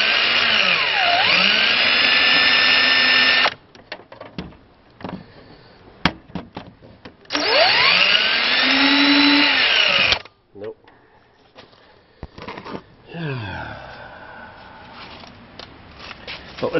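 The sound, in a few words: power drill drilling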